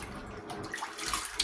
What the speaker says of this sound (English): So let's get them washed off one more time.